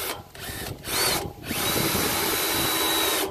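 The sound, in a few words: Wolfcraft 32mm hole cutter drilling a stainless steel sink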